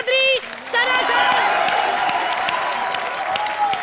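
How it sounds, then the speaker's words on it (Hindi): Loud studio audience applause and cheering on a Hindi comedy show greets arriving guests, starting with a brief musical flourish and then a steady, dense wash of clapping with crowd noise. "जोरदार तालियों से स्वागत कीजिए"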